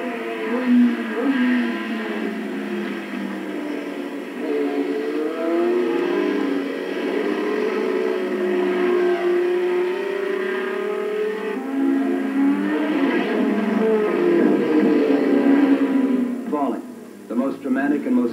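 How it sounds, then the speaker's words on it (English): Small-cylinder racing motorcycles screaming past on a track in 1983, their engine whine rising and falling in pitch as they accelerate and brake, a sustained, loud, overlapping drone. "Now it's the turn of the small cylinder motorcycles."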